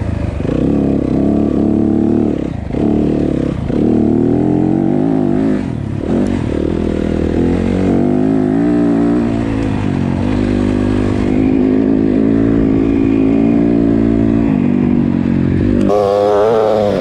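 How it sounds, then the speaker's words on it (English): Dirt bikes on a singletrack trail in a desert canyon, engines droning and revving loudly and close throughout, with shifting pitch as the riders accelerate and a few clattering bumps over rough ground. "going jumps on dirt bikes"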